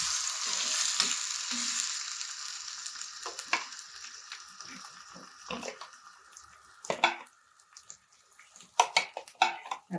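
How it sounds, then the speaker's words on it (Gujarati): Crushed green chillies frying and sizzling in a pan with hot oil and asafoetida, a steady close hiss broken by stirring scrapes that grow louder and more uneven toward the end, with no talk. "આપણે મરચાંને જે ક્રશ કરીને લીધા છે એને આપણે આની અંદર એડ કરી દઈશું."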